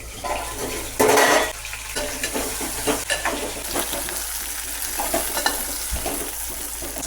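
Stuffed onions sautéing in hot oil with mustard seeds, a steady close sizzle with scraping stirs and a loud burst of crackling as they hit the pan, continuing as a bubbling fry.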